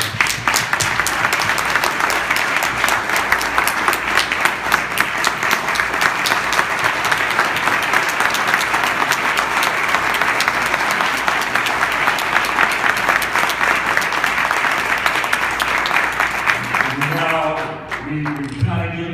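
A crowd's sustained round of applause for Luke Edwards III, the 2015 National Father of the Year, loud and dense clapping that fades out near the end as a voice begins.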